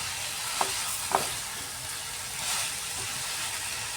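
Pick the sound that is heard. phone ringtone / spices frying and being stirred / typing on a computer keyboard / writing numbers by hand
spices frying and being stirred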